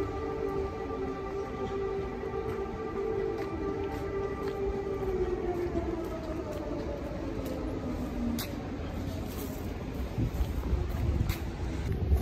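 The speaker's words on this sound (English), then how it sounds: "So here we go, there's an air raid alert now in Kyiv." A distant air raid siren in Kyiv, Ukraine, wails slowly over a steady low rumble of city noise, its pitch gently sliding down and up.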